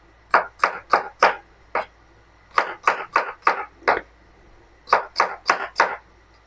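Onions being finely chopped with a knife on a board in a home kitchen, in quick, close, crisp strokes that come in bursts of four or five separated by short pauses, with no talking.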